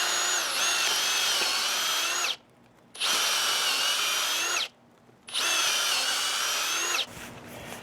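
A power drill bores into wood for an eye bolt on an archery backstop, sounding in three loud, sustained bursts of whining motor separated by short pauses. The last burst stops abruptly and is followed by a fainter tail.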